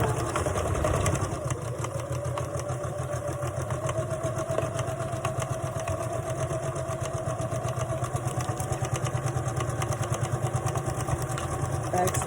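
A sewing machine runs a steady, even whir for about twelve seconds while stitching a skirt's side seam with a 5/8 inch seam allowance, ending with a back stitch.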